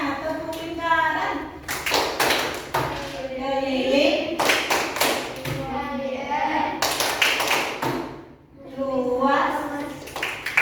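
A school class chants a circle-themed rhyme (tepuk lingkaran) together, children's voices riding over sharp, rhythmic group clapping in repeated bursts with short pauses between phrases.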